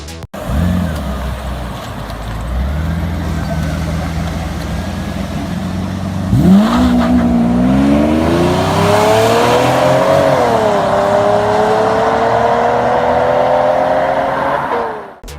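A Mercedes SL600 engine in the Need for Speed 3 Hot Pursuit racing game, loud and close: a steady idle-like drone, then a sharp rev surge that climbs through the gears and holds a high, sustained roar before cutting off.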